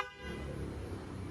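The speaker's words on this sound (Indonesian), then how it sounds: "Suara klaksonnya." A 2004 Toyota Harrier sounds its horn in one steady, sustained tone for just over a second, heard at a modest level with no talking over it.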